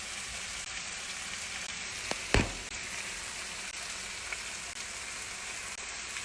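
Lamb chops sizzle steadily in a hot pan, a soft constant frying hiss with a brief clatter partway through.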